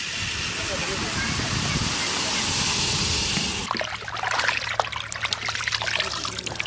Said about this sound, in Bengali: তার আগে মুগের ডালটা ভেজে নেব।